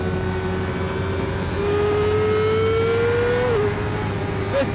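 A Kawasaki Ninja 400 motorcycle screams at full throttle in 4th gear on a racetrack, a loud steady engine note climbing in pitch before a brief dip as it eases off.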